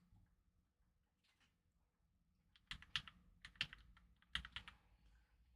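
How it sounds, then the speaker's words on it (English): Clacking keys of a new computer keyboard during typing, a quiet pause giving way to bursts of sharp, irregular clicks in quick clusters, fairly close and moderately loud. "I have a new keyboard. You can probably hear it clacking away."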